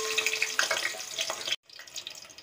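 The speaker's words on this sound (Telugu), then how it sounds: "ఆనియన్స్ ఫ్రై అవుతున్నాయండి." Onions fry in hot oil for a village-style fenugreek-leaf mutton curry, a close, moderately loud sizzle that cuts out briefly partway through and then resumes at a lower level, no talking.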